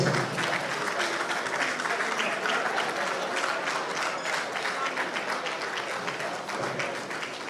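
A sustained round of applause from a large audience at a formal political event, loud and even throughout with dense overlapping claps.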